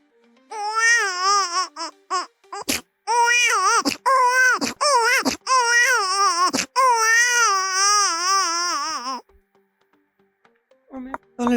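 A voice imitates a crying baby with a run of wailing, wavering sobs broken by short gasping pauses, loud and close, ending in silence before a brief new sound.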